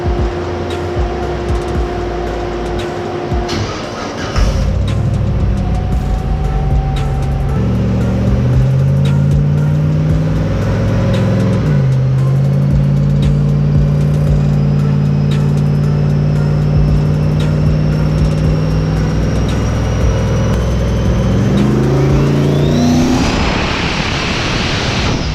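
A Nissan 240SX with a turbocharged 6.0L engine runs on a dyno, loud and close, its pitch climbing and dropping through several revs with steady blower-like hiss and whine, then cutting off abruptly near the end.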